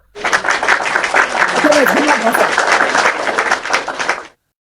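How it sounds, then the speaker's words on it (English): Hand clapping for a brother, dense and loud applause-like clapping that runs continuously for about four seconds before stopping abruptly, with voices mixed in. "I clap for my brother"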